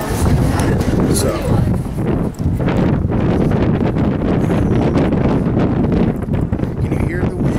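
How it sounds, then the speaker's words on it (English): Strong wind buffets the microphone outdoors on a cold, rainy day, a continuous loud roaring rush with gusty surges throughout, and a voice speaks over it. "Can you hear the wind? It's a lot of wind."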